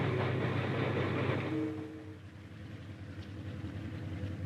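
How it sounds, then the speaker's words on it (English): Chartered Santa Fe Railroad trains hauling equipment rumble loudly at first, then the roar drops away into a lower, steady rolling drone with a brief tonal whine as the noise fades. "2 trains were chartered from the Santa Fe Railroad for the journey"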